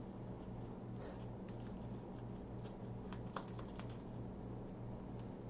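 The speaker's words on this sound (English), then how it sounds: "I am shuffling." A deck of game cards is shuffled by hand for a Gloomhaven-style solo board game, giving a soft, close, papery riffling patter over a low steady hum, with no talking.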